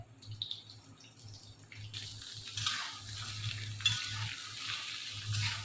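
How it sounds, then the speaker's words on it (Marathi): Brinjals sizzling and frying in a pan with steady broadband crackle and occasional stirring scrapes, close and fairly quiet, growing denser after the first couple of seconds. "तर यात मी आता ही वांगी सोडून घेते आणि ही सगळी वांगी अशी मी छान लावून घेणार आहे."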